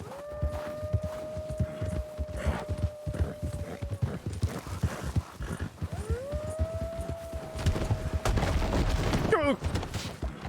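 Horse hooves clip-clop in a medieval roleplay game, a steady rhythmic patter of steps mixed with game music tones and other effects, with talk over parts of it.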